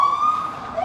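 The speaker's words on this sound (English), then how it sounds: "A little siren?" Police patrol car siren out on a city street, a brief steady wailing tone heard up close for under a second.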